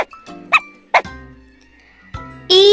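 A dog barks in a few short, sharp bursts, set against bright, tonal music from a children's alphabet song.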